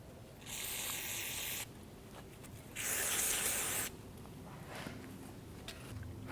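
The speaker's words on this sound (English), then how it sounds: "Once you have this all cleaned up, I'm going to go ahead and spray it down." Brake cleaner is sprayed onto the rear drum brake parts of a Chevrolet S-10 in two distinct hissing bursts, each about a second long, close up against a quiet background.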